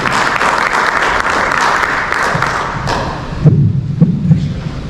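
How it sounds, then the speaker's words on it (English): Audience applause for speaker Kate Kuehn at a conference session, a steady dense clatter of clapping for several seconds that thins out near the end as low thumps and rustle take over. "give a nice big round of applause for Kate"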